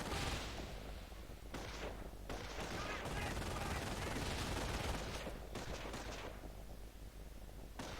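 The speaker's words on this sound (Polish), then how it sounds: "No, jeszcze jeden strzał." Bursts of rapid gunfire crackle in fusillades with brief pauses between volleys, combat in the game Company of Heroes: Tales of Valor, fairly faint overall.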